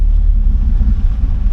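A 2003 Nissan Pathfinder engine, just cleared of limp mode after a valve cover job, rumbles steadily with deep low-end drone, close and loud, with a slight wavering rise in revs and no talking.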